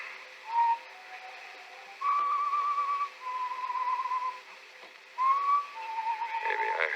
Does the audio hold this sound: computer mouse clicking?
no